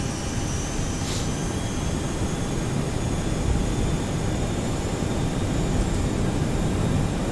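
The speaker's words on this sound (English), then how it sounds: "Go ahead and set takeoff thrust." Boeing 737-200 jet engines spool at takeoff thrust in the FlyJSim flight simulator game, a loud, steady, broadband roar with a faint high whine running throughout.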